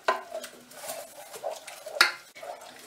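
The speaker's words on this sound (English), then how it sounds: "Bring to the boil, stirring for 5 minutes until it thickens." A spoon stirs a thickening carrot and potato mixture in a pot. It gives soft scrapes and a sharp clink against the metal, close up and fairly quiet, with no talking.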